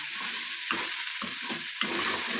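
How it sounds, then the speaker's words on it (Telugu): Small bitter gourds frying in a pan give a steady sizzle. Several soft scraping stirs break it up as the pieces are turned. There is no talking. "ఇలా కలుపుకుంటూ కాసరకాయలని వేయించుకోవాలి"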